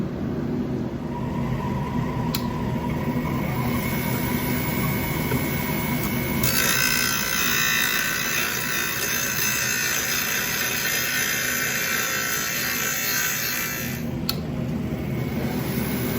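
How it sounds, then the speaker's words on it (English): Bench grinder sharpening the hot-cut end of a hammer head into a point, motor whirring steadily while a harsher grinding rasp of steel on the wheel swells in the middle section, then drops back. "clean up that end that I just hot cut on the bench grinder, give it kind of a nice sharp little point"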